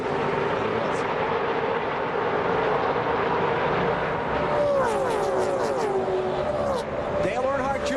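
NASCAR Busch Series race cars lapping Daytona on July 4th produce a continuous roaring engine drone, with pitch-shifting whines as the pack passes, beneath steady commentary.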